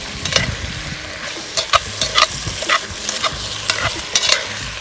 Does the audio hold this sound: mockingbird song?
no